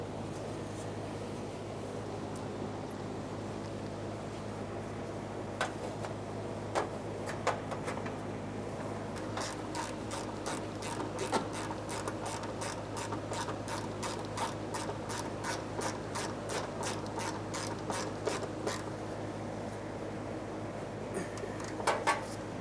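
A ratchet with a 12mm socket tightens an emergency brake cable mounting bolt under a 1994-1997 Honda Accord, giving long runs of quick, even clicks, soft and close against a low background hum.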